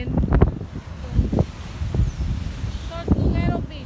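Wind at a beach rumbles and buffets the microphone in low gusts, with a person talking intermittently over it at close range.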